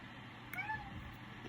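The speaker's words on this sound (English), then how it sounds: "that sounded like my cat" A house cat gives one short, faint meow against a steady background hiss, heard indoors during a plastic model-kit build.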